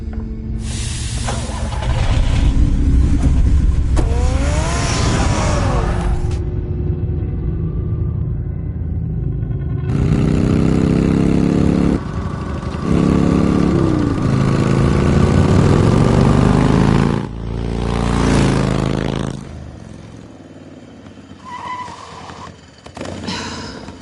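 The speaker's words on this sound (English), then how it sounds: "Get the car ready, Alfred." Batman's car in the Batman Telltale video game rumbles and hisses with a loud, continuous engine drone, shifting in pitch and intensity across several long passages.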